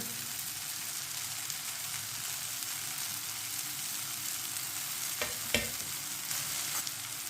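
Bharwa karela filling with salt, red chilli and turmeric is stirred, a steady soft scraping and gentle sizzle running throughout, with a couple of sharper clinks near the end and no talking.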